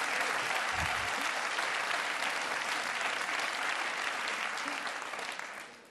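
Studio audience of an Italian television talk show applauding, a dense steady wash of clapping that stays loud throughout and only starts to thin near the end.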